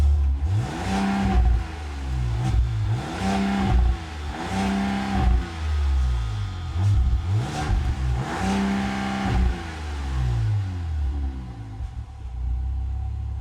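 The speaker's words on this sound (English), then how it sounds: "I'll go ahead and fire it up so you guys can hear how it sounds real quick." A Ram 1500 Limited pickup's Hurricane straight-six rumbles at a close idle, then rises through several revs and falls back again, a deep steady engine note with no talk over it.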